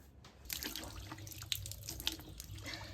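Tap water runs into a sink during face and hand washing, a steady splashing flow with a few sharper drips and splashes, close and fairly quiet, with no talking.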